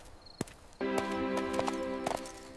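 A cartoon donkey's hooves clip-clop at a slow walking pace, sharp knocks spaced out over a sustained musical tone.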